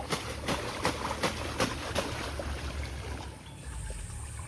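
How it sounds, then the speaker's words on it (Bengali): A tarpaulin being washed in a village pond, giving repeated splashing slaps at a steady rhythm for the first two seconds, then a softer trickling wash of water, close by and with no talk. "শেষ কাজ হচ্ছে কি তিরপলটাকে পুকুরে ধোয়া"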